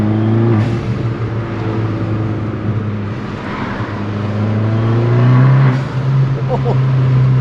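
An Abarth car accelerates hard with a loud, steady engine roar and rising revs, heard close from inside the cabin over several seconds, with a brief shift-like dip midway.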